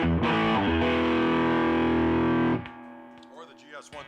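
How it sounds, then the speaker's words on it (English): A loud, driven electric guitar chord through a Gristlekin Clean Boost pedal rings for a couple of seconds, then cuts off, leaving a softer note and some faint sounds. "Here's the Gristlekin Clean Boost."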